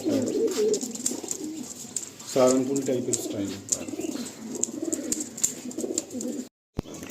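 Andhra pigeons coo in low, throaty rolling notes, repeated through the scene at close range, while someone talks over them in a loft setting.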